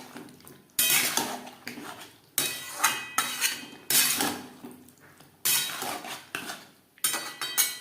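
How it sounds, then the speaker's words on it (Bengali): Boiled kohlrabi mixed with spices in a pan for a vegetarian curry, a utensil scraping and clinking against the metal in a series of loud, irregular strokes with short pauses between them. "মশলার সাথে ওলকপি বেশ ভালো করে মিক্সড করে দেবো।"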